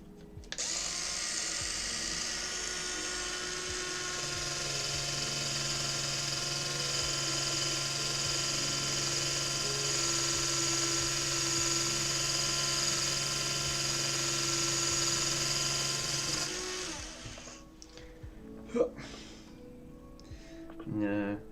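A polisher runs with a steady, droning electric whine for around seventeen seconds while cleaning an Amstrad CPC 464 home computer, then stops, leaving a few faint knocks.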